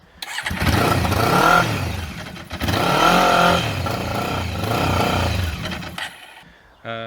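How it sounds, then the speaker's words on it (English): A Honda CB500 motorcycle engine starts up and runs nearby with a loud, steady rumble, rising and falling slightly with throttle blips and briefly dipping before it settles again. "And I got the CB 500, that got that started and running."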